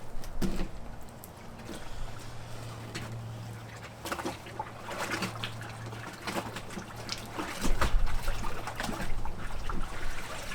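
Water runs and splashes in uneven spurts while a whitetail deer hide is washed, close by and moderately loud, with irregular gushes and a low steady hum beneath.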